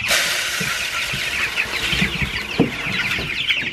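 Meat bird chickens cluck and chatter continuously while eating feed, with several close, overlapping clucks and scratchy pecking sounds over a busy background hum, no speech.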